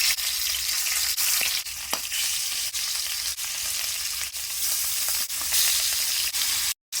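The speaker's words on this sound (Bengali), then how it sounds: "ইলিশ মাছ ভাজার জন্য তেল গরম হয়ে গেছে, মাছ দিয়ে নেব।" Hilsa fish rubbed with salt, turmeric and chili fry in hot oil, a loud, close, constant sizzle broken by faint periodic clicks and a brief cut-out near the end.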